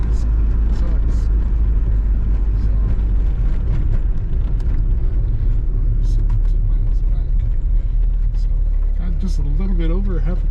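Steady, loud engine rumble and road noise from inside a moving Honda Civic EG8 with a Type R engine swap and manual clutch, with brief voices over the drone.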